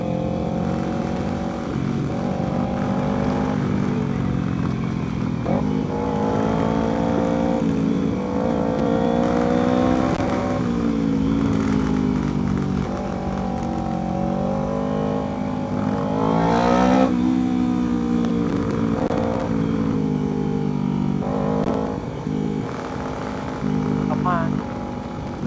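A loud Kawasaki Ninja 250 motorcycle exhaust drones and rumbles throughout, its pitch rising and falling with throttle changes, while voices talk over the engine.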